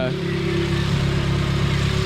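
A modified Subaru engine, fitted with a BRZ manifold and turbo upgrades, runs steadily at close range with a constant droning rumble and a low hum. Someone talks over it.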